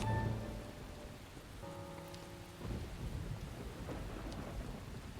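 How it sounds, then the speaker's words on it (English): Steady rain falls with thunder rumbling in a stormy scene from the video game Deadly Premonition, a constant hiss with a low roll swelling partway through and no talk. "it's nice and rainy"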